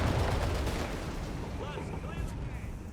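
Dense battlefield gunfire and artillery from Company of Heroes 3, a continuous loud roar of shots and blasts, with a voice talking over it.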